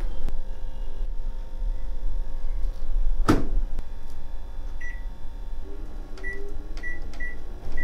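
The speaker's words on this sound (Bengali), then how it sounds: "আমি মাইক্রোওয়েভে সাত মিনিট চল্লিশ সেকেন্ড দিয়েছি" A microwave oven cooking mustard hilsa hums steadily throughout, with a sharp clunk partway through and a series of short electronic beeps near the end.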